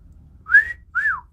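A person whistles two short notes close by, the first rising and the second falling, clear and fairly loud over a quiet background, with no talking.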